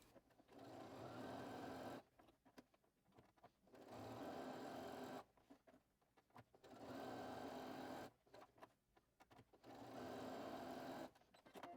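A sewing machine stitches a fabric strap for a pencil case in four steady runs of about two seconds each, separated by short pauses filled with faint handling noise.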